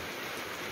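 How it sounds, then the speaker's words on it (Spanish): Steady rain falling at an even hiss, a dense wash of drops with no pauses, heard on a stop during a trip through Thailand. "El problema no es la lluvia, el problema es cómo se pasa la lluvia."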